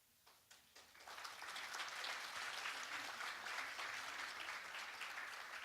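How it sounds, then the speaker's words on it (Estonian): Audience applause at an anniversary event swells after a few scattered early claps into sustained, dense clapping that fills the room and stays loud to the end, with no talking over it. "Tundub, et ikka enamus suutis endale plaksutada"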